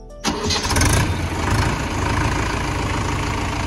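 A Mahindra 585 Yuvo Tech+ tractor engine cranks and catches with a sudden roar, then settles into a loud, steady stock diesel idle close by.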